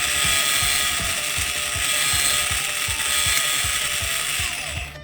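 Tightening the motor of a G&G Combat Machine airsoft gun gives a rapid, regular ratcheting click. Close, crisp pawl clicks repeat at a steady pace for several seconds, then ease off at the end.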